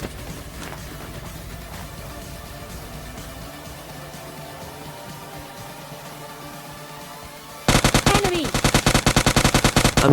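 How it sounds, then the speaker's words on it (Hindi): Automatic gunfire in the mobile video game PUBG Mobile Lite: rapid bursts of shots over game ambience, then a loud, dense volley of evenly spaced shots near the end, close and punchy. "लेकिन तभी पीछे से फायरिंग आती है।"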